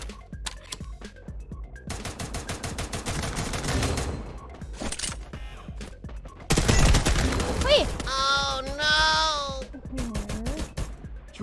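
Gunfire in Free Fire comes as rapid automatic bursts, first one long volley, then a second loud barrage, with a player's voice talking between and over the shots.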